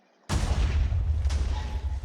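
Explosions boom in Minecraft on the Lucky Islands map: one loud, sudden blast cuts in after a brief quiet, leaving a heavy sustained rumble, and a second burst lands about a second later.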